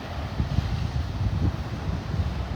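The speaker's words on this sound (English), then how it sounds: "That wind still kind of coming out of the southwest." Wind gusts at a beach at Delnor-Wiggins Pass State Park in Naples, buffeting the microphone in a steady low rumble with possible surf behind it, and no voices.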